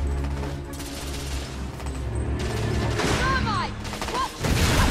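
Thermite rifle gunfire in The Order: 1886 crackles in dense bursts with explosive crashes and shouted combat voices, loud and continuous through a chaotic firefight.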